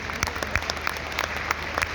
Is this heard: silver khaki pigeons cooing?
no